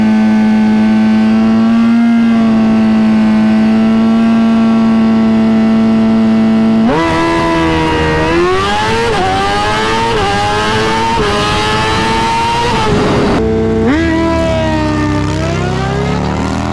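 Suzuki GSX-R 1000 race bike at a track: a steady high engine drone, then loud rising revs through several upshifts with brief dips between gears, close and alone without talk.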